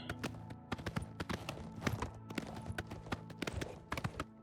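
Horse hooves clip-clop in an irregular, fairly quick rhythm as a mount travels in the video game Oblivion, the hoofbeats crisp and close against a faint background.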